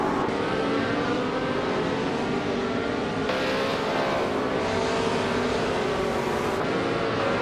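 Racing car engine of a 1966 McLaren M10A roaring loud and steady in a race, a sustained high-revving drone with shifting pitch and no pauses.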